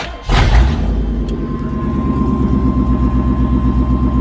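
A 1999 Chevrolet K1500 Suburban engine cranks and catches with a loud burst, then settles into a steady, rumbling idle close by, with no one talking.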